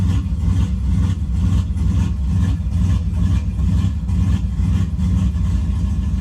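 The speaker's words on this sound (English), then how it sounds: "Watch the idle starts coming down. Stop surging." Turbocharged GMC engine idling after a cold start, a steady loud low rumble that holds continuous throughout with a slight rhythmic surge, no talk over it.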